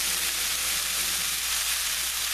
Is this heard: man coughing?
no